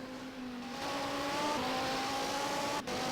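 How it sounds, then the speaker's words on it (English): An onboard race car engine in a sim race at Sebring holds a steady drone, with a gear change shifting its pitch midway and a brief dip near the end, heard alone without voices. "We'll go on board together like we did before and just check out how he's shifting"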